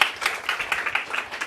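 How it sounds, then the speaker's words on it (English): Audience applause at a food systems transformation breakout session in 2025, a short burst of fairly close, rhythmic clapping with no voices. "give them a big round of applause"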